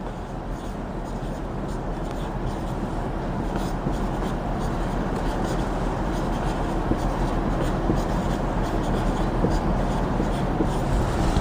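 A pen or marker writes by hand during a photosynthesis lesson, with steady scratching strokes continuing close and clear against a constant background hum.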